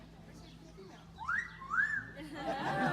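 An Amazon parrot at an African Lion Safari in Canada whistles to a female Amazon: a short, rising-and-falling whistle in two swoops, moderately close, with a voice briefly speaking and background chatter.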